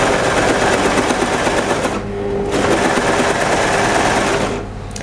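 An overlock sewing machine stitches a French terry sweater seam with a loud, steady, fast mechanical whir, pausing briefly midway and again near the end.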